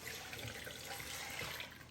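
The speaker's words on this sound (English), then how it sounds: "So now we're gonna put our water, and you have to fill it to the half line" Tap water runs steadily into a container while preparing beef rolled tacos, a continuous broadband rush with no talk over it.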